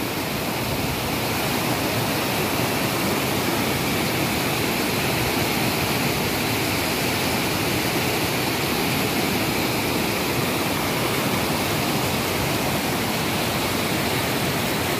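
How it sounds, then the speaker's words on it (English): Loud, unbroken roar of a fast-flowing flooding river, a dense steady rush that never lets up, with no voices. "The water flowing forcefully."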